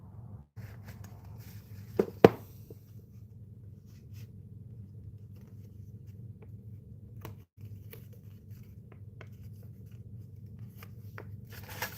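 A few sharp scissor snips cut through paper, spaced apart, over a steady low rumble in a quiet room.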